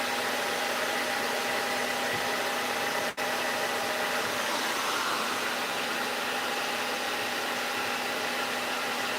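A hair dryer fitted with a diffuser blows in a steady, loud rushing roar that holds constant, with one brief dropout partway through.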